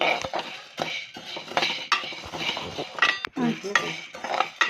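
A ladle stirs toor dal as it dry-roasts in a pan for kandi podi, making close, continuous scraping with frequent metallic clinks and rattling of the grains.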